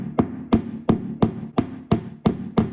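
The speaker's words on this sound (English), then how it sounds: "as you tap that in place with the hammer" A hammer strikes a plastic drywall anchor into a wall during a clothesline installation, eight steady, evenly spaced taps at close range with no talk.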